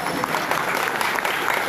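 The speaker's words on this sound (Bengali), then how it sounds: "ওনাদের সকলের জন্য একটা জোরে সোরে করতালি" Audience applause at an indoor company training event, a steady dense wash of clapping that fills the whole short stretch at even loudness, with crowd murmur mixed in.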